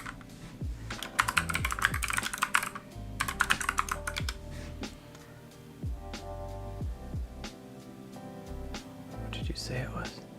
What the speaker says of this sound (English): You're typing so fast.